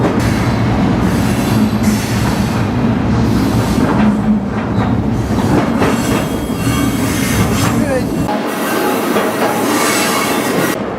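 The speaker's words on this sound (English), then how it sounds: "the train is approaching the junction in Spokane" A freight train rumbles past close by with steady clattering wheels and a rough, continuous roar, briefly dropping in low rumble near the end.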